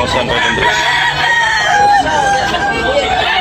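Gamefowl roosters at a cockfighting sale in Barili crow and cluck amid a busy crowd babble, a drawn-out crow standing out close by while other birds and people talk all around.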